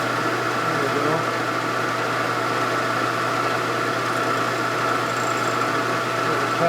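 A 1947 Harley-Davidson EL Knucklehead 74ci engine idling steadily in a workshop, a continuous close, even mechanical hum with a low rumbling throb throughout and no talk.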